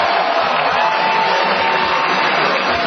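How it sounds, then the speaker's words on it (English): Minor-league ballpark crowd at a Burlington Bees vs Cedar Rapids Kernels game reacting to a defensive stop at third, a steady wash of cheering and murmuring across the stands, heard through a narrow, radio-like broadcast sound. "You could hear the crowd's reaction as Caleb Mayer made a good play to his right"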